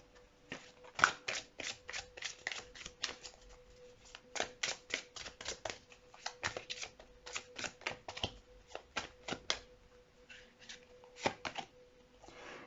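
Tarot cards being shuffled and drawn, a quick run of crisp snapping and flicking card sounds in dense bursts with short pauses, close and clear, no talking.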